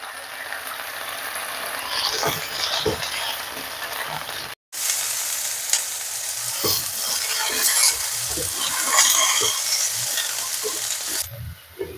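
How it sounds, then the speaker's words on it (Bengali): Potato and cauliflower pieces frying in a pan, a steady close sizzle broken by repeated scraping stirs and knocks of a spatula, with a brief dropout midway. "আলু ফুলকপিগুলো ভেজে নিচ্ছি"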